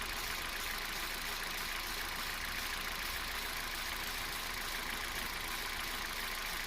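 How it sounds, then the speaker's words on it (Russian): A Kia Rio's engine idles with its alternator belt running, giving a steady, even mechanical hum with no voices over it. "Вот мы запустили двигатель."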